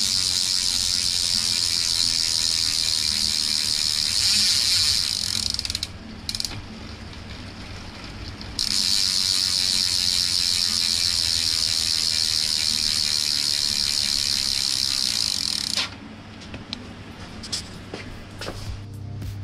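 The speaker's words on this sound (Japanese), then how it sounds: "ホイールが組まれてタイヤがついた状態で普段皆さんが体感しやすい音を、聞いていただければと思います" A singlespeed gravel bike's wheel hub freewheel buzzes in a fast, continuous ratcheting click as the wheel coasts, close and loud, stopping briefly then resuming before slowing into sparse, irregular clicks; no talking.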